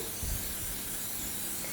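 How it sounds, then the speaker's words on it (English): A short, steady hiss of cooking spray being sprayed close up onto a slab baking tin, lasting under two seconds. "I'm just going to spray my slab tin."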